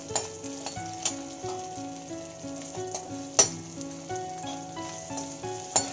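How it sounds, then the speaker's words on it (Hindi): Chopped onions sautéing in a pan, a steady close sizzle with faint stirring scrapes and a couple of sharp utensil clicks, no voices. "बस हमें प्याज को इतना ही भूनना है।"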